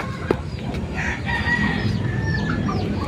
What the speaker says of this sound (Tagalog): Mga manok. Daming manok.